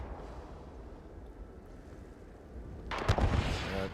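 Rocket launcher fire in the video game Starfield, a sudden heavy whooshing blast bursting out after a low quiet rumble and roaring on for about a second.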